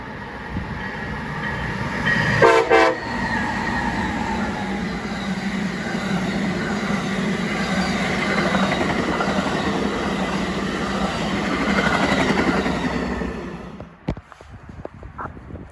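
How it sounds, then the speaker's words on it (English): Amtrak 41, a southbound passenger train led by a pair of Charger locomotives, rolls past close by with a sustained loud rumble and clatter of wheels. A brief harsh blast comes early on, and the sound drops off sharply near the end. "Amtrak 41 rolls southbound with a classic pair of Chargers leading the way."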